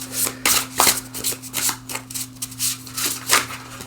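A tarot card deck being shuffled in a series of quick riffling bursts, close and crisp, with a faint steady hum underneath and no talking.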